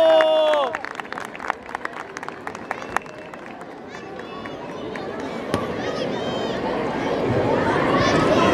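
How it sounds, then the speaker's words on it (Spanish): An audience at a school event breaks into applause for students. The clapping swells and holds steady as a dense crowd sound, following a voice at the start and a few sharp claps. "Saludemos a nuestros alumnos con un gran aplauso."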